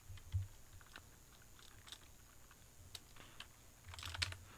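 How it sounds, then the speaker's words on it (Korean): Keys tapped on a computer keyboard, including presses of Enter and Escape, come as scattered quiet clicks at an irregular pace with no voice, while a faint steady hum sits underneath. "엔터키를 눌러 다시 이름 쪽으로 간 다음 ESC를 눌러서 공용 영역으로 가지고"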